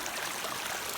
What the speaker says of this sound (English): let's go see the county creek